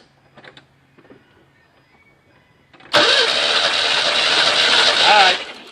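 Bigfoot monster truck engine cranking: after a few faint knocks and a brief voice, a loud, sustained starter churn runs for about two and a half seconds, close up, then cuts off.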